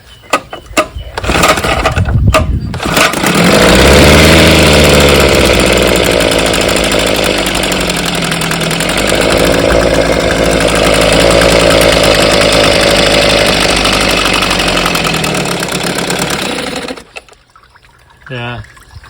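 A 1964 Evinrude 5.5 HP outboard motor is pulled over, catches and runs loud and close for about fifteen seconds, its pitch wavering as it bogs down, before cutting out.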